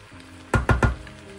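Pasta frying in a pan with a splash of water added, giving three quick loud sizzling bursts close up over a quieter background hiss.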